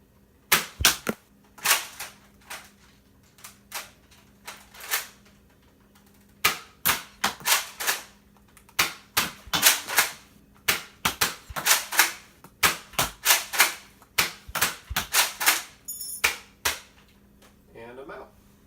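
Two modified Nerf Retaliator blasters joined together fire foam darts in single and double shots, giving a long series of sharp, close clicks and pops, some alone and some in quick pairs, with short pauses and faint handling noise between them.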